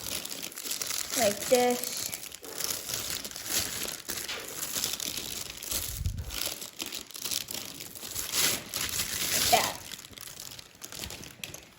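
Sheet of paper being folded and pleated for an origami Ryujin 3.5 pre-crease, with close crinkling and crisp creasing rustles running throughout, under occasional soft speech.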